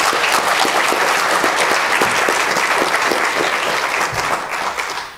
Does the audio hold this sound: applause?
yes